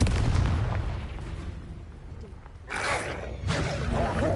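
A Confringo spell blast in Hogwarts Legacy booms out as a loud explosion, followed by a second heavy burst and rumbling fire, with some voice underneath.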